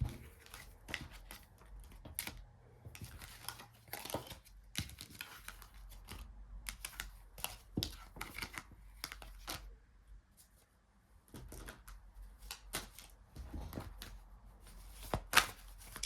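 Cards being shuffled and riffled in quick, uneven bursts of soft ticking and snapping, close by with no talking.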